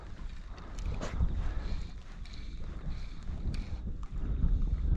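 Wind blows across open water during float tube fishing on a lake, a close, gusty rumble buffeting the microphone with soft splashes and knocks mixed in.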